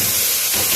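Washed rice drops into a pot of hot oil and sets off a loud, close, continuous sizzling hiss that fills the short moment.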